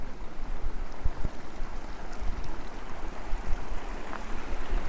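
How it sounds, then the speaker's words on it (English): Constant broadband rush of a swollen, high-running creek, with a few faint bumps over the flow and no voices. "Probably because of this creek is so high."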